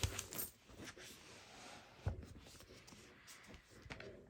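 Coins are slid and shuffled across a table while counting cash, producing faint, sparse metallic clinks and scrapes with a couple of sharper taps in a quiet room.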